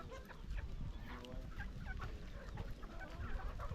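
Flock of chickens clucking on a poultry farm, a dense, continuous chorus of overlapping calls at moderate loudness, with no voices over it.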